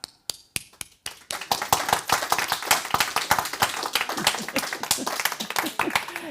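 A group claps, starting with a few sparse, separate claps that swell into dense, steady clapping close by.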